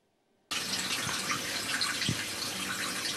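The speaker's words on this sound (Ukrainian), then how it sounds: "За тоненьким струменем води з крану Тетяна Тимофіївна звіряє годинник." A thin stream of water runs from a household tap, starting abruptly after a brief hush and then hissing and splashing steadily into a basin.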